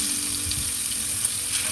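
Chicken leg pieces fry in about three tablespoons of hot oil in a pan, making a dense, constant sizzle close by with light crackles and no talking.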